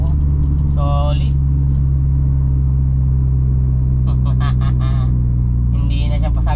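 Toyota Raize with a new full exhaust system idles with a steady, deep low rumble, while someone talks over it at intervals.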